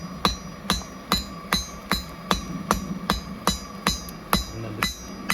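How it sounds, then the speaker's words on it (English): A hammer strikes old spring steel on an anvil while a knife is forged. About a dozen sharp, ringing blows land in a steady, even rhythm, close and loud with no talk. "We're just basically forging this down"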